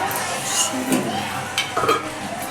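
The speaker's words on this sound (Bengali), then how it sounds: "আর এবার একটু নেড়ে নিয়ে তরকারিটা আমরা নামিয়ে নেব" Meat curry is stirred in a pot with a spoon, giving soft scraping and sizzling that rises in a few short bursts against a steady cooking hiss.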